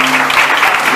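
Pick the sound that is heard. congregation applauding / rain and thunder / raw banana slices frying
congregation applauding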